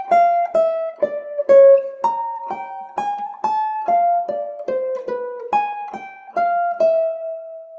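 Single-note jazz guitar line playing a turnaround phrase, clean plucked notes in a steady stream that leaps up an octave partway through, played alone with no talking.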